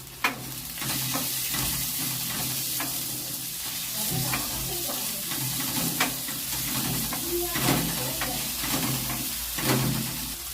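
Tomatoes fry in a hot pan with a loud, steady sizzle, broken by repeated scraping and stirring strokes and small bursts of spitting.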